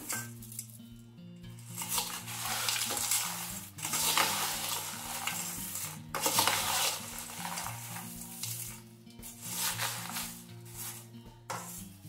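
Water chestnut flour sev is stirred through a fasting-style farali chiwda in a pan, giving rustling, scraping strokes that come in uneven bursts, with a low hum underneath and no talking.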